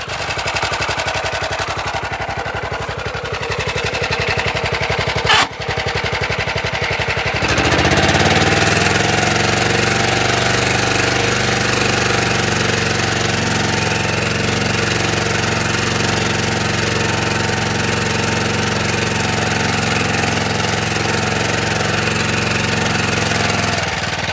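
Motor Sich MB-8e walk-behind tractor ploughing with a reversible plough: after a few seconds of quieter rumble, the single-cylinder engine comes in loud and close, a steady thumping drone that runs on without talk.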